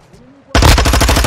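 Rapid machine gun fire in Call of Duty: Warzone 2.0 erupts suddenly after a quiet moment, loud and close, rounds hammering in a fast even rhythm.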